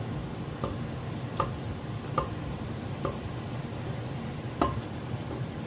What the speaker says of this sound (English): I'm going to start mashing this down a little bit.